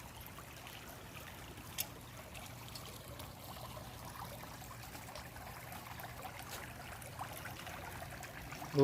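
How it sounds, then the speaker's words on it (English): A small creek in Northern Virginia forest countryside trickles with a steady, soft, continuous burble, and faint wind and outdoor background noise sit beneath it. "This nice little creek we came across on our hike."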